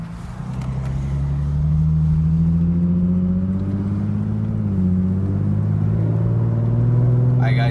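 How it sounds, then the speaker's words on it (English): A Lexus IS350 with an aftermarket exhaust revs up loudly and close by in sport mode, its rumbling pitch climbing and holding high before easing slightly, then rising again. "this is with all the windows down, so give it a couple revs."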